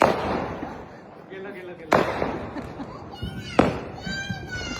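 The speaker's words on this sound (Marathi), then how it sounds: "त्यानंतर माझ्या मम्मीने फटाके फोडले." Diwali firecrackers burst nearby in two sharp, loud bangs a couple of seconds apart, with whistling tones trailing after them and people talking over the din.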